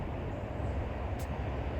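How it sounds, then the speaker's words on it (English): A train rolls past close by, a steady low rumble with broad roar filling the short stretch, no voices over it. "here comes a train to mess up the audio"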